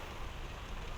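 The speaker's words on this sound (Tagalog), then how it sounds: "kusog kayong ulan" Steady, dense patter of rain falling hard, a continuous broadband hiss with no voices, close and constant throughout.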